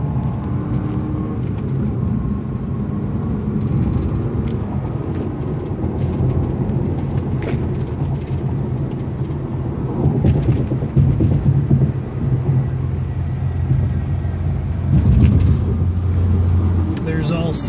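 A 2012 Audi A5 with a six-speed manual gearbox picks up speed on the road, heard from inside as a steady low engine and tyre rumble that swells somewhat louder midway through.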